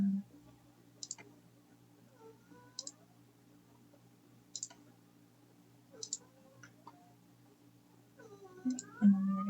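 Computer mouse clicks while working in a mod editor for Dragon Age: The Veilguard, single crisp clicks spaced a few seconds apart, quiet and close, with faint muffled talking and some background hum.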